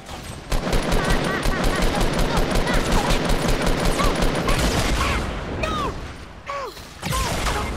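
Gunfire at a player's base in Fortnite: rapid, dense bursts of automatic shots, loud and sustained with a brief lull near the end, under speech.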